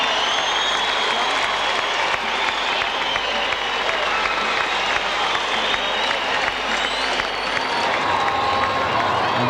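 Fans at Wembley clap and cheer steadily as a school six-a-side team makes its victory lap with the trophy, a dense, sustained wash of applause with occasional whoops rising above it.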